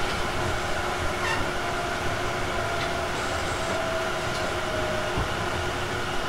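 A Tobu 50050 series electric commuter train runs on a special Crayon Shin-chan express between Kasukabe and Kita-Senju, recorded inside car MoHa 58055: a steady, dense rumble of wheels and motors with faint squeals, continuous throughout.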